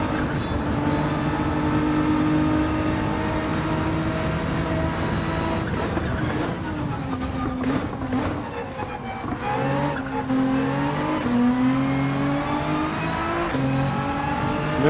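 A Viper race car engine in the racing game Gran Turismo 7 drones loudly through a lap, pitch rising and falling with gear shifts, with tire squeal and other cars' engines mixed in.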